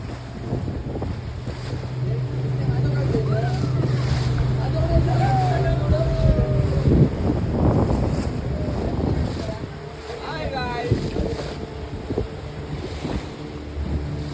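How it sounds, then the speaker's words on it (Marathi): Boat riding up and down on the sea off Nivati beach, Vengurla, with steady engine drone, wind buffeting the microphone and washing waves, while people talk over it. "बोट मस्त वर खाली वाहता यार."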